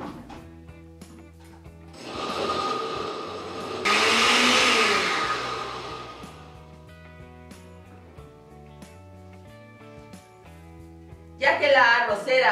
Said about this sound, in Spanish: Vamos a moler esto muy, pero muy,